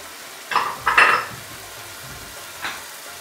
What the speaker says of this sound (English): So I have to cook it at least 5 to 6 minutes tomato crush, because it's already uncooked.